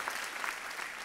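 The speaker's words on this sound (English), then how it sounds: "Give her an applause." Brief burst of audience applause at a TEDx event in Amsterdam, steady clapping from a crowd lasting about a second, fairly faint and alone.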